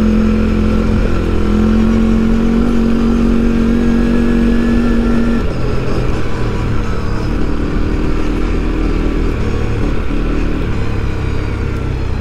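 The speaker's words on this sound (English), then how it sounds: "I can't get over how nice the engine braking is." A CFMOTO CFORCE 400 ATV engine drones loud and close while engine braking on a trail ride, its steady tone dropping partway through as revs fall, with no talk.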